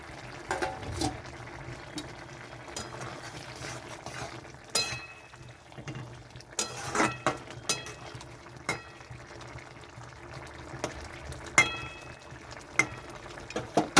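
Fried prawns go into a gently boiling curry gravy with eggplant, bringing soft bubbling, liquid splashes and scattered clinks of a spoon against the pot, all fairly quiet.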